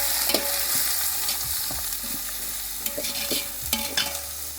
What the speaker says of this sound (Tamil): இப்போ இதை நம்ம நல்லா வதக்குவோம்